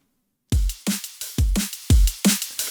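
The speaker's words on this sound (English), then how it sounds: "So this was my first drum loop that I made." A self-made drum loop in a drum-and-bass style, built in FL Studio, starting after a short silence: punchy kicks alternate with bright, crisp snares in a quick, even breakbeat rhythm, dry and upfront.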